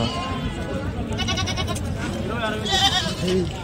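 Goats and sheep bleat repeatedly at the Saturday livestock market in Angallu, with several wavering calls rising over a busy crowd murmur and nearby voices.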